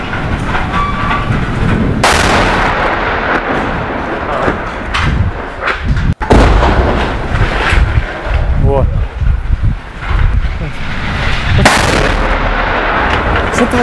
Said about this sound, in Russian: Что творят? Взлет взрывают.